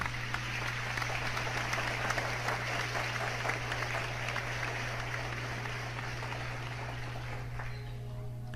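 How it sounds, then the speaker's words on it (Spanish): A church congregation applauds during a service, steady dense clapping over a low steady hum, fading out near the end. "¿Cuánto le pueden dar un aplauso al Señor?"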